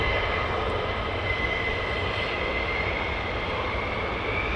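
A military jet roars steadily on takeoff at RAF Lakenheath, a broad sustained engine rumble with a faint high whine, heard from a distance and unbroken for the whole stretch.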